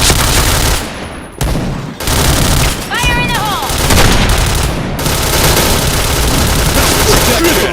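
Rapid bursts of automatic gunfire in a shooter video game, loud and dense across the clip, with brief gaps and an electronic chirping tone partway through, layered with game effects and music.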